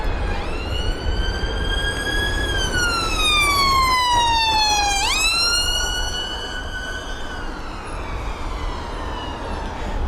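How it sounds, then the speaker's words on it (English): A loud siren wails continuously near London Heathrow, its pitch sweeping down then jumping back up, with steady traffic rumble underneath. "the amount of sirens we're hearing today is crazy."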